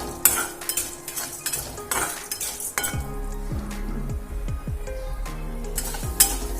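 Cumin and coriander seeds dry-roasting in a pan for mango coconut chutney, with a soft sizzle under scraping, stirring clinks and the knock of a utensil against the pan, close and continuous.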